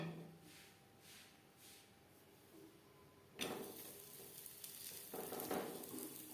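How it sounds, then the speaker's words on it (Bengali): Atta paratha frying in a pan, a soft sizzle that swells sharply partway through as the flatbread meets the hot surface, then stays steady and crackling near the mic with no talk. "পরের পরোটা একইভাবে ভেজে নেব"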